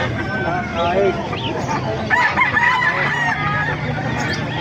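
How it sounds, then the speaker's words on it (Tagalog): Chickens and hens clucking, with a rooster crowing amid the flock, while people talk over the steady poultry noise, at a poultry market in Bocaue, Bulacan. "may mga inahin pa rito"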